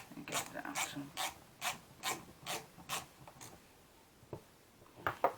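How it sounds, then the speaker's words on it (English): Tightening the screw strip on a handmade custom tape measure gives a run of regular ratcheting clicks, about eight evenly spaced, followed by a pause and a few quicker clicks near the end, all fairly faint and close. "Let's tighten up that screw strip, see if we can get that out."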